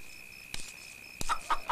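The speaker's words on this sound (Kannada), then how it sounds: "ಆ ಕಡೆ ಹೋಗ್ಬೇಡ, ನಾಟಿ ಕೋಳಿ ಐತೆ" A country chicken gives a few short clucks, one alone and then a quick cluster, close and moderately loud over a faint steady background tone.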